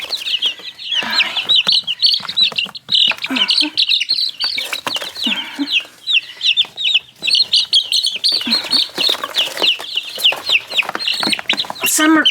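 Fifteen young chickens chirping and clucking near the microphone, a busy continuous chorus of high peeps and short clucks with constant overlapping calls.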